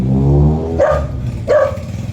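A pet dog at playtime lets out two sharp, close barks less than a second apart, after a brief low growl-like rumble.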